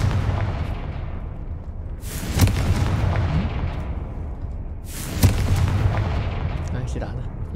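Confringo fire spell blasts in Hogwarts Legacy, two loud booming bursts a few seconds apart, each decaying into a rumble over steady game ambience.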